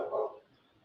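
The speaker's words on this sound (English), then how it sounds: "You hearing him bark?" A single short dog bark, fairly distant and muffled, followed by quiet.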